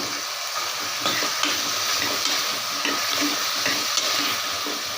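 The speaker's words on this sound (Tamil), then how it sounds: "எல்லா காயும் போட்டு நம்ம வதக்கிடலாம்" Chopped vegetables for a white kurma sautéing in a pan, an even steady sizzle with faint stirring clicks scattered through it.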